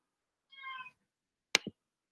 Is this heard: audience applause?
no